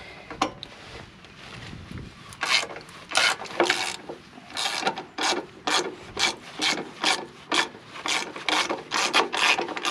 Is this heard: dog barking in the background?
no